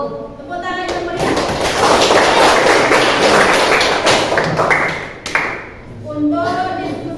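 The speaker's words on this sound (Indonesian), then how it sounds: "Tepuk tangan yang meriah." A classroom of students at an Indonesian university bursts into applause, a dense wash of clapping swelling for several seconds then tapering off, with voices audible before and after.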